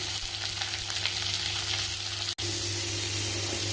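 Small diced potato and carrot with chili and garlic fry in a pan for chira pulao, making a loud, dense, constant sizzle. A brief dropout cuts in partway through, and no one speaks.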